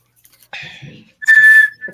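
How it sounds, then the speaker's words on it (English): A cheap survival whistle from a bug-out bag kit gives a short, shrill tone, then a louder, sustained piercing blast, close and alone. "a whistle"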